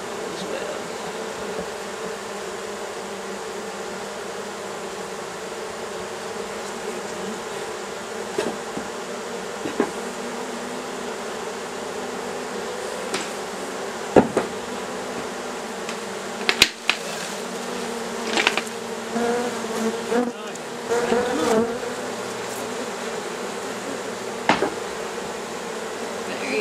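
Bees buzz continuously around a hive during the release of a caged queen, a dense, steady droning swarm heard close up. Scattered clicks and knocks break in now and then.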